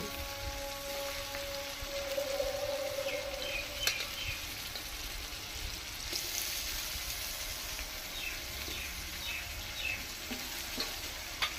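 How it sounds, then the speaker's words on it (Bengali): Prawns frying in hot oil for doi chingri, a steady, close crackling sizzle with scattered pops and occasional light scrapes. "বন্ধুরা তেলটা গরম হয়ে গেছে, আমি চিংড়ি মাছগুলো দিয়ে দিচ্ছি। চিংড়ি মাছগুলো হালকা করে ভেজে নেব।"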